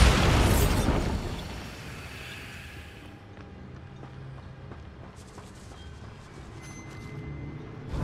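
The Bombarda spell detonates inside a goblin mine in Hogwarts Legacy. A loud blast erupts at the start and fades into a long echoing rumble, with faint clanks and rattles afterward.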